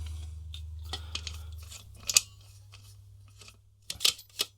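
Metal center brace of a RockJam Z-Frame heavy-duty keyboard stand sliding out and back in, giving scattered scraping clicks and a few sharper clacks close by over a steady low hum.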